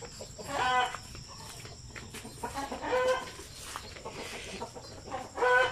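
Native chickens cluck in short bursts nearby, with scattered chirps and farmyard bustle between calls; no voices.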